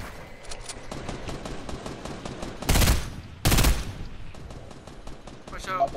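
A shooting video game plays rapid gunfire in quick bursts, with two loud, sharp volleys standing out amid fainter repeated shots and background game noise.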